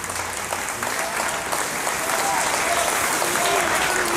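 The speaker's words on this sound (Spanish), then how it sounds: "Que se escuche fuerte el aplauso para Julia Jari en el cuarto festival de mi ciudad Los Mochis 2014." Loud, sustained applause from a festival audience in Los Mochis for a performer, dense steady clapping filling the whole stretch with crowd noise mixed in.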